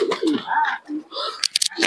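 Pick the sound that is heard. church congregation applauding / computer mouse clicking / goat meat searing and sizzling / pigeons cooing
pigeons cooing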